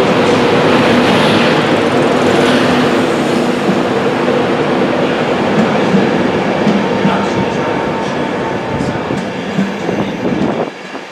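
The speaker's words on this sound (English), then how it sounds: "So I'm now at Doncaster Railway Station waiting for the next train to arrive" A passenger train pulls in at Doncaster railway station, a loud, steady rumble of wheels and carriages filling the platform throughout, easing slightly near the end, with faint voices in the background.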